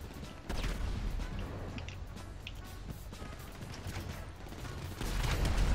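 Gunfire in the GTA Online video game sounds as dense, continuous bursts of shots and mechanical clatter at a steady level, swelling louder near the end, with no talk.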